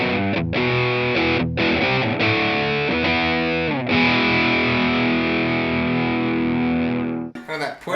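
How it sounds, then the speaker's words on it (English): Electric guitar through a Fender overdrive pedal giving a gutsy, clear amp-style drive, a run of chords and sustained notes played alone, with a brief noisy handling sound at the end. "It's not over the top distortion, but I mean, it's a good gutsy amp drive."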